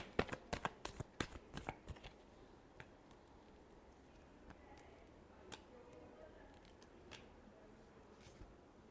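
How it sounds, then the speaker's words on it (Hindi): Tarot cards being shuffled in a quick run of sharp riffling flicks over the first two seconds, then sparser single card snaps and taps, close and fairly quiet. "last shuffle"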